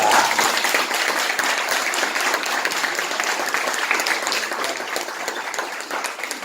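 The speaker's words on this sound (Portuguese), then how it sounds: "Eu acho que ele merece uma salva de palmas" An audience at an empowerment lecture breaks into dense, steady applause that stays loud and even for several seconds before easing slightly at the end, with no voices standing out.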